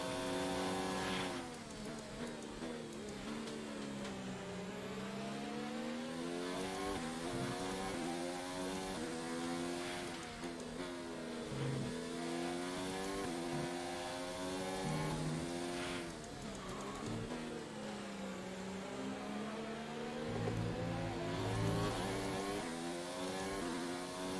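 A Formula 1 car engine in the F1 2019 racing game at Bahrain screams steadily for the whole stretch, its pitch sweeping up and down through gear changes, loud and continuous with no talk.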